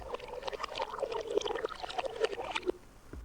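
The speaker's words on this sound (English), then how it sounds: "we reversed the sound and we slowed it down" A water recording played backward and slowed down with EQ shaping gives a murky, gurgling wash of warped bubbles and swelling sloshes, continuous and close, ending in a sudden low cutoff.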